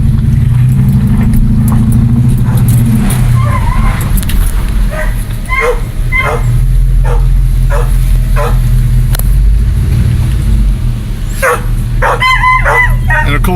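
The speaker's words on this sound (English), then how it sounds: "back in there you could hear my dogs barking." Several dogs bark in short bursts in the distance, over a steady low rumble and faint background voices.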